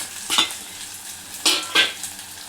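Onions and green chillies frying in a pan for a red lentil dal, with three sharp bursts of sizzle and stirring over a low steady fry, close and alone without voices.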